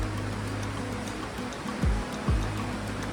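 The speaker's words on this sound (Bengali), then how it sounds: "এই যে ওয়াটারফলস, কেভের ভেতর থেকে ওয়াটারফলসের জল" A waterfall splashes and rushes inside Siju Cave in Meghalaya, a steady broadband wash of falling water with low rumble, close by and continuous, broken by two brief low thuds.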